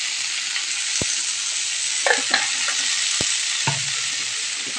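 Leafy greens frying in a wok, a steady close sizzle and hiss with a few sharp taps and scrapes of a spatula against the metal, no talking.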